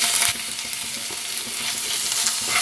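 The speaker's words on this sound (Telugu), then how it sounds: "ఇవి చాలా రుచిగా ఉంటాయి ఇవి వేసేద్దాం" Small wild (non-farmed) prawns hit hot oil in a pan, giving a loud, steady sizzle with faint stirring scrapes, no voices over it.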